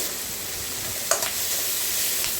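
Onions with curry leaves fry in a pan for a vegetable egg kurma, giving a steady close sizzle with one or two brief stirring scrapes.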